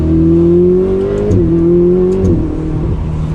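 A Ferrari 488 Spider's V8 engine drones loudly from inside the car, its pitch climbing steadily before dropping sharply with each dual-clutch downshift toward second gear, twice in quick succession.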